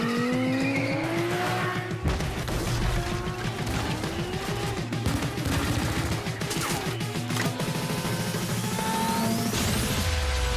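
A marshrutka minibus is driven fast, with a loud engine and tires squealing and sliding in long streaks, recorded close up from inside the moving vehicle.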